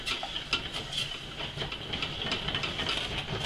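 A pan of white wine with cockles heats toward a boil, giving a steady soft hiss of steam with faint bubbling crackle throughout, close and quiet.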